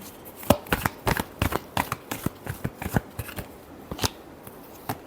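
Tarot cards being shuffled by hand, a close run of crisp, rhythmic riffling snaps and flicks repeating roughly every quarter second, with no voice over them.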